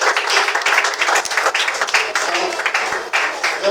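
A church congregation applauds for the Lord during a French-language worship service, steady crowd clapping filling the room for the full span at moderate loudness.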